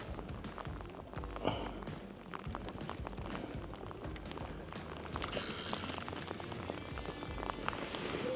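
Rain falling outdoors during a fishing trip, a faint, dense patter of drops on surfaces under wind, with scattered taps and rustles throughout.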